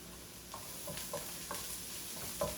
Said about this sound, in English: So I'm gonna go ahead and add our garlic.